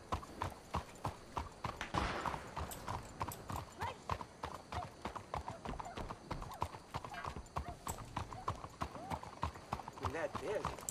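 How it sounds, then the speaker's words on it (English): Horse hooves clip-clop steadily and continuously in a roleplay video game, close and fairly loud, with a brief whinny and a person talking over the footsteps. "That is a good old horsey."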